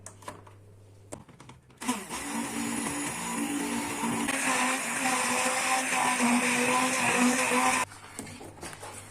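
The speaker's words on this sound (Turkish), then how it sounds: "o ısınana kadar ben çorbayı blender yapacağım şimdi" A blender whirs loudly for about six seconds pureeing Çeşm-i Nigar soup, its motor whine rising slightly, starting and stopping abruptly amid quieter kitchen sounds.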